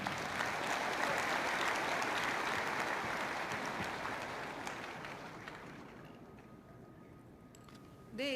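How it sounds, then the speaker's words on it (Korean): Applause from an audience welcoming a party member forward at a political party meeting, dense at first and gradually thinning out, ending with a brief sharp sound near the close. "박수로 환영해 주시기 바랍니다"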